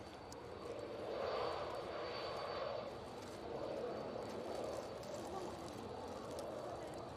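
Jet engines of airliners at Manchester Airport, including Dreamliners, make a broad distant roar that swells and holds steady, with no talk in this stretch.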